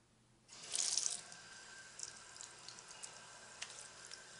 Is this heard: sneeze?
no